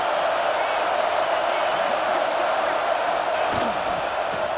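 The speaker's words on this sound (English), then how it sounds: "The crowd getting behind this defense as they try to get a stop in the red zone." A stadium crowd in a college football video game, LSU versus Texas, cheers as the defense tries to make a red-zone stop. The roar is a loud, steady wash of noise with a few sharp thuds and shouts rising out of it.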